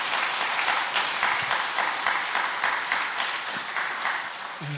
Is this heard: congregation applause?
yes